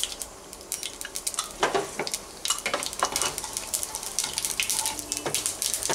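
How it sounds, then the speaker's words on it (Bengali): Mustard seeds and whole cumin sizzle and crackle in hot oil for a Bengali potato fried rice, with sharp popping bursts over a steady fry and a few stirring scrapes of a utensil in the pan. "এবার আমি এই তেলের মধ্যেই ফোড়ন দেব সর্ষে আর গোটা জিরে।"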